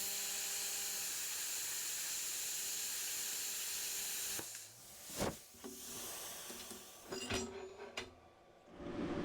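An SSIMDER SD4050Pro plasma cutter slices through welded steel plate about 12 mm thick with a steady, close hiss, then cuts off, followed by a few clinks and thumps.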